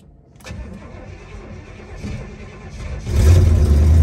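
1970s Ford Mustang Mach 1 V8 cranking and catching, then settling into a rumbling idle before a louder, deeper burst as it revs up close by.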